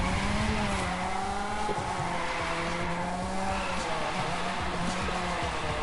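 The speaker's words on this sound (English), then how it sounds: "You hear like the Mazda rotary engine?" A Mazda rotary-engined car in the racing game The Crew 2 holds a continuous buzzy, high-revving engine drone throughout, with slight pitch wavering and tire noise. A voice talks faintly beneath it.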